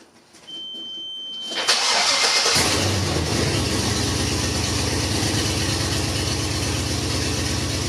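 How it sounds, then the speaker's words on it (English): A Land Cruiser's swapped LS V8 cranks and fires up loudly through open headers, then runs at a rough, uneven idle on seven cylinders with a choppy, stumbling beat, close and unmuffled. "It's really loud. It sounds like an open header LS on 7 cylinders."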